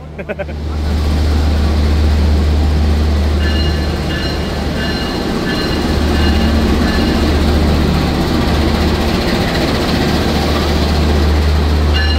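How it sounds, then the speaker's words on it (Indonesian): A Direct Train on a Semarang–Jakarta route being shunted onto platform track 1: a loud, steady low rumble of the train with wheel and engine hum, sustained throughout, with a crowded platform around it. "kereta direct train-nya akan dilangsir menuju ke jalur 1 di sebelah sini"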